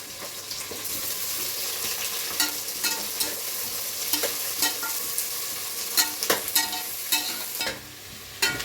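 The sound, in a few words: ingredients being fried and stirred in a pan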